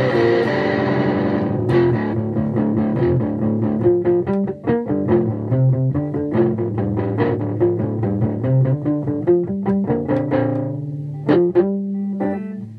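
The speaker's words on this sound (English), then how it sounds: "this little guy, amp simulator, has gain, reverb and vibrato" Electric guitar played through an amp simulator pedal with gain, reverb and vibrato, giving a driven, distorted tone; a steady run of loud, close picked notes and chords, no voices.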